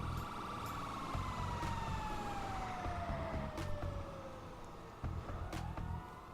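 A fire engine siren wails with a descending, sweeping tone over rumbling traffic as the truck pushes through an intersection, loud and continuous with a few sharp horn-like blasts, no talking.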